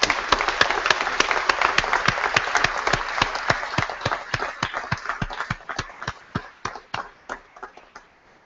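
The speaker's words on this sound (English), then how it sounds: "Can we all applaud each other for the great accomplishment that we've done?" A convocation audience applauds after a graduation address in June 2014, the sharp claps loud and dense at first, then thinning toward the end into a few scattered, separate hand claps.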